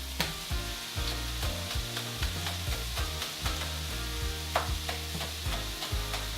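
Quinoa fried rice frying and bubbling in a pan, a steady broadband sizzle with a low hum and repeated scraping thuds from a utensil working the bottom, close and continuous, with no talking.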